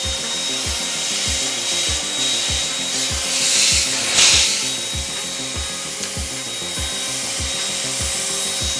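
Wahl hair clippers fitted with a vacuum cleaner adapter and clipper guard combs, both running together: a steady loud motor whine and airflow hiss with a rhythmic low pulsing throughout, no talking.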